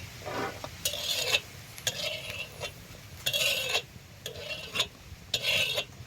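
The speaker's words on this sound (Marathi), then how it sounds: "अशा शेंगा भाजून घ्यायच्या आता शेंगा काढून घेतो" Repeated scraping and stirring of bean pods roasting on a hot griddle, bursts of rasping sizzle every second or so with short pauses between.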